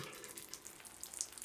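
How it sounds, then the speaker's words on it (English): Faint, steady trickling water from the Luigi's Mansion 3 video game, a soft continuous wash of water with small splashy flickers and no voices. "That water trickling sound is a little too realistic."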